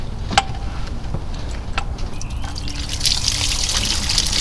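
Water trickles and pours steadily from an opened drain plug on a 1942 Farmall M tractor that sat unused for over 20 years, close and continuous, swelling to a fuller gush.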